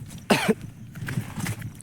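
A single sharp cough bursts out close by on a trek in the Sahyadri range toward Maharashtra's highest peak, followed by quiet rustling and faint background noise.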